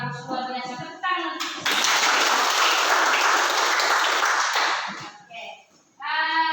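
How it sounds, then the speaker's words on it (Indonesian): A classroom of children bursts into applause, dense clapping that swells, holds for a few seconds, then fades, with a voice talking before and after it. "Tepuk tangan."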